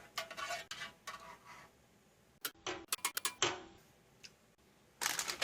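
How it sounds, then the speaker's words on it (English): A spoon stirring an MRE drink mix in a container, a few quick clinking and scraping strokes close by in short bursts separated by near silence. "Give that a quick stir."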